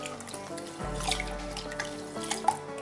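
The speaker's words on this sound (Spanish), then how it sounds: "lo llevo a un colador y lo pongo en la llave del agua a que corra el agua hasta que salga completamente limpia" Tap water runs steadily over rice in a colander while red Mexican rice is being prepared, a continuous close splashing trickle with soft tonal background sounds and no talking.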